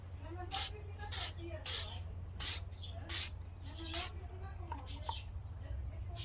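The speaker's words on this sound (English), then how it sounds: "We're going to apply the first coat here. And then nice even sprays, not too close, about 8 inches away right now." Aerosol clear coat is sprayed onto a Honda Accord headlight in six short, evenly spaced bursts of hissing mist, with a soft steady hum underneath and a few fainter clicks afterward.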